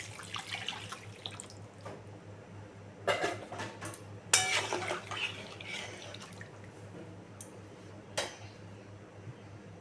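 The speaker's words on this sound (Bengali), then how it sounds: "নেড়ে নিয়ে জল দিয়ে দেবো।" Water runs and splashes into a kitchen pan of potatoes, with a few louder pours and clinks of utensils against the pan amid a steady low background hum.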